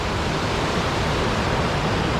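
A glacier stream on a mountain trail, its water rushing steadily in a dense, continuous broadband roar, close and loud with no other sounds.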